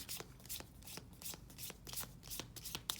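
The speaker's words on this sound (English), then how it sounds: "I think I'm going to pull out some cards from Sacred Traveler." Oracle cards being shuffled by hand, a quiet, close series of quick riffling swishes and soft slaps repeating at a steady pace.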